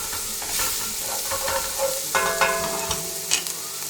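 Sliced onion and three cloves of garlic sweating in a lamb navarin stew pot over rekindled heat, a steady close sizzle with scraping stirs and small clinks of a utensil against the pot.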